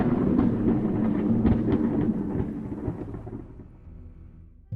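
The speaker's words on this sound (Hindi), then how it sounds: "अचानक जोर से बिजली चमकने लगी, आसमान गरज उठा" Cartoon-style storm thunder rumbles loud and deep, rolling continuously with crackling texture and a hint of rain, then fades away before a sudden short thump at the end.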